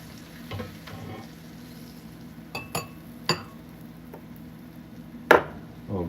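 Crispy fried onions being lifted out of a hot pan for double cheeseburgers: a low steady sizzle runs throughout, broken by a few sharp metallic clinks and scrapes of a utensil against the pan, close by and without speech.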